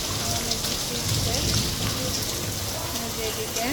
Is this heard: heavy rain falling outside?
yes